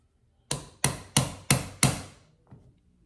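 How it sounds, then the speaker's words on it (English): Five sharp hammer taps in a quick, even rhythm, close by, gently seating a primer into a 45-70 Govt cartridge case during hand reloading, followed by a softer sixth tap after a short pause. "I'm going to hammer it a little bit more."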